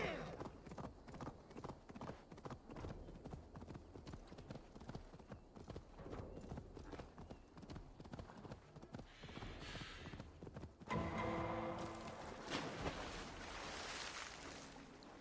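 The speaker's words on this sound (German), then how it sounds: "Oh, meine Pferde können schwimmen." Horses move through water in the video game Assassin's Creed Valhalla, a steady run of rhythmic hoof-like clip-clop beats with splashing, turning to a brighter watery surge near the end; no talk over it.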